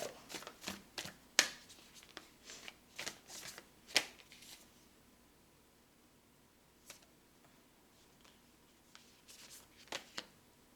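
Tarot cards shuffled and flipped in quick, crisp riffles and slaps, a dense burst of card sounds early on, then sparser single snaps and draws at close range, fairly quiet with no talking.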